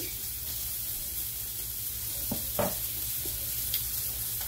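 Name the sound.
bubble waffle batter cooking in a closed waffle iron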